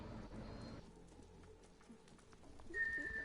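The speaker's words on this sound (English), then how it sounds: "teleporting horse, I summon you" A summoned horse in the game Hood: Outlaws and Legends arrives with soft hoof clip-clops and faint movement over quiet ambient background, ending with a thin whistle-like tone; no speech.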